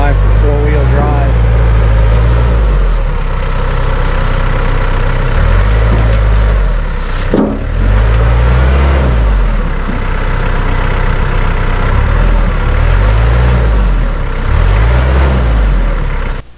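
A four-wheel drive vehicle's engine runs loud and close, a steady low drone that swells and eases in repeated revs, with someone talking over it.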